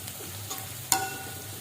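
Chili and shallots sautéing in a pan for chicken soup, a quiet steady sizzle broken by one sharp crackle and a brief flare of spitting oil, with no one speaking.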